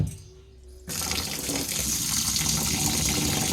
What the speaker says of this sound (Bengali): আমি দেখো চালটা ধুয়ে নিচ্ছি